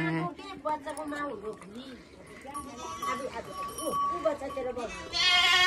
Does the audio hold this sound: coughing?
no